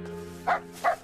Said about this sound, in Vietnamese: Đừng sủa. Người một nhà, đừng sủa